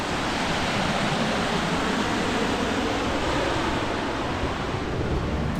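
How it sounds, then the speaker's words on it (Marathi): A river rushes beside a medieval stone tower in Svaneti, Georgia, a steady broadband roar of flowing water, constant and fairly close, with no voices. "मस्त नदी वाहते आहे साईडने."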